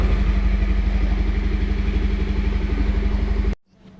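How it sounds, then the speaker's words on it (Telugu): A 2024 Bajaj Pulsar 150 BS6 motorcycle exhaust idles with a steady, throbbing rumble at close range, then cuts off abruptly near the end. "ఎగ్జాస్ట్ సౌండ్ కూడా వినొచ్చు మీరు. మనకి ఐడియల్ స్టేట్లో ఉంది ఇప్పుడు ఇంజిన్ అనేది."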